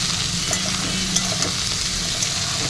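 Chopped vegetables and onion sizzle loudly in a hot pan while a utensil stirs and scrapes them, with small clinks, close and continuous, with no talking.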